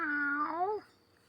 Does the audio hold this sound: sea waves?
no